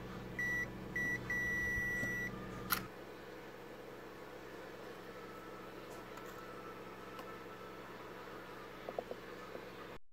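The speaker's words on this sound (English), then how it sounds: "The beep sound means there is a shorted component." A multimeter on continuity setting beeps against a shorted component on a Devant smart 4K TV board: two short tones then a longer steady beep, clear and close, before a quiet room with faint clicks.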